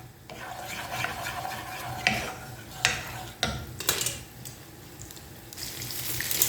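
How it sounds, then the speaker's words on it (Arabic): Garlic sizzles in a hot pan while a utensil stirs it, scraping and clinking against the metal in irregular strokes over a steady frying hiss, close and alone without talk. "بصوا خلاص التوم اهي اتحمرت اهيت."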